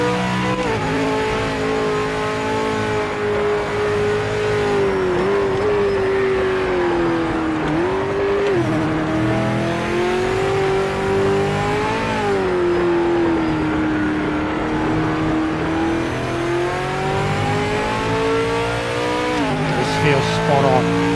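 Racing car engine in the PMR racing video game, a loud, continuous drone that rises and falls in pitch with gear changes and throttle, with a faint tire squeal, all heard under talk.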